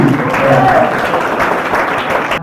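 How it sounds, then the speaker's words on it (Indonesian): Loud, continuous clapping from an audience at a school event, a dense wash of hands without pause. "Tepuk tangan kembali."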